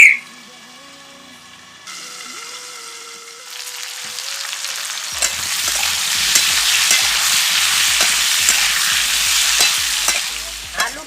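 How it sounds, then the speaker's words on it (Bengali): Potatoes with a pinch of turmeric fry in a pan for aloo do pyaza, starting with quiet hum and a faint tone, then loud, continuous close sizzling broken by repeated scraping stirs. "আলু ভাজা হয়ে গেছে"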